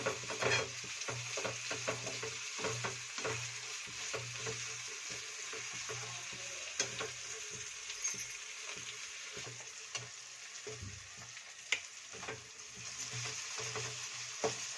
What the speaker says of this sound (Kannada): ಈಗ ಟೊಮೊಟೊ ಹಾಕೊತಿದ್ದೀನಿ. ಇದನ್ನು ಚೆನ್ನಾಗಿ ಬಾಳ ಹುರ್ಕೋಬೇಕು.